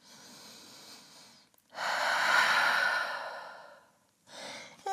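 A deep breath during a downward dog yoga pose: a soft, quiet intake followed by a long, louder sighing exhale, then a fresh inhale beginning at the end.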